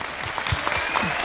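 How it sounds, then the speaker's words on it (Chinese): Audience claps steadily on a Chinese television talent show stage, a continuous wash of hands with faint low thumps and voices underneath. "好，我们掌声欢迎"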